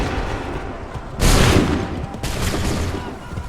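Musket volleys crack out in the Assassin's Creed 3 video game as a rolling burst of gunfire, one loud salvo followed by another, over a busy battlefield background.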